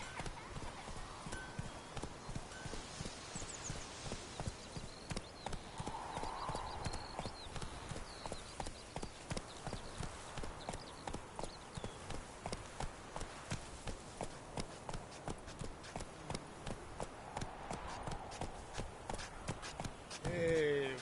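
Roach, the horse in The Witcher 3, trots with a steady, even clip-clop of hooves throughout, fairly close, with game sounds and a voice over it.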